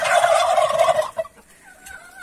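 Naked neck chickens and a rooster call with a loud, warbling burst of clucking that cuts off after about a second, then fainter calls follow.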